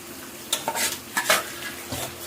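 Boiled egg pieces fry lightly in a pan for a village-style egg curry: soft, low sizzling beneath a few sharp scrapes and clinks of a utensil stirring against the metal.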